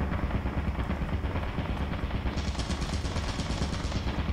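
A turret in Lethal Company fires a sustained rapid burst, a dense, loud stream of gunfire with no pauses and nobody talking.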